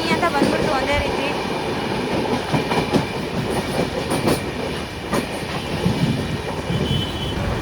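A Hospet passenger train rushes past on a crossing while riding aboard another train: a loud, close, continuous rumble with rapid clickety-clack and metallic rattling, and a voice faintly mixed in.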